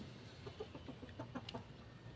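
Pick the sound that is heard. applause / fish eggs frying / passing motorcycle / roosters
roosters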